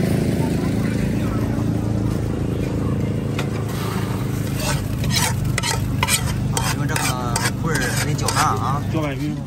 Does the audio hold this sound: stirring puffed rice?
yes